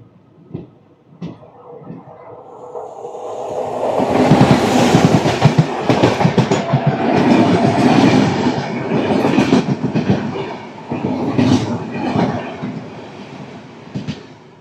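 Udaya Express, the Visakhapatnam–Guntur train, rolling through Nidadavolu Junction station: a loud, sustained rumble of wheels and carriages with rhythmic clickety-clack building after a quieter start, plus occasional sharp rail clanks.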